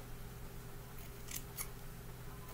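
Scissors cut through layered rag quilt fabric in two quick crisp snips close by, set against a steady low background hum with no talk.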